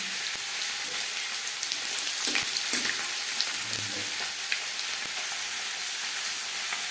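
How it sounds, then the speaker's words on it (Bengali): Panch phoron spices fry in hot oil in a wok, giving a continuous crackling sizzle with scattered pops, close and moderately loud with no voices. "গ্রেভির জন্য আমি আলাদা একটা কড়াই দেখিয়েছি দিয়ে দিলাম পাঁচ ফোড়ন"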